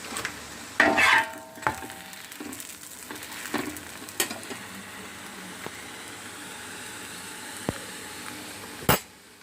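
Parotta frying in oil on a pan after being flipped, with a soft sizzle, a few sharp clanks of utensils against the pan, and faint scraping as it cooks, close by.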